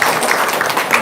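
Applause from a gathered audience, a steady wash of many hands clapping together for about a second, fairly loud and dense throughout with no distinct individual claps.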